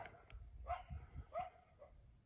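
Two or three short, distant coyote barks ring out over low rumbling background noise, spaced unevenly apart.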